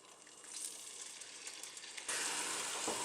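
Blended garlic and onions hitting a hot pan for a healthy pasta, a soft hiss building and then bursting into a loud, bright, continuous sizzle for the last second of the clip.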